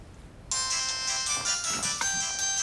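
After a brief quiet moment a phone suddenly starts ringing, a bright electronic ringtone melody that plays loud and close over a faint background.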